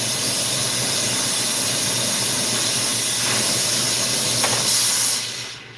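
A glassworking torch flame hisses steadily and loudly at close range while heating glass for a new color, a broad continuous roar that cuts off near the end.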